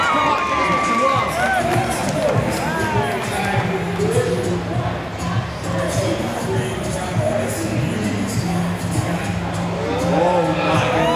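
A loud crowd cheers and shouts continuously at a dunk show, with children's voices, whoops and an announcer talking over the steady roar.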